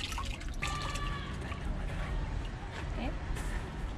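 Water poured and trickling at a temple hand-washing basin in Nara, Japan, a light splashing dribble running steadily under nearby voices and outdoor background noise.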